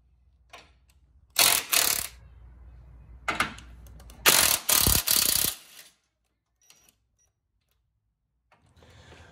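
Ratchet fitted with a 14mm socket loosening bolts on a Fiat 500 Abarth, several close bursts of rapid clicking separated by pauses, then near silence.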